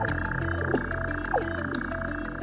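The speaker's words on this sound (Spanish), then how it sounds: "Suenan ranas." Frogs croak in a swamp area of the game Satisfactory, a few short croaks rising over a steady droning ambient bed, moderately distant.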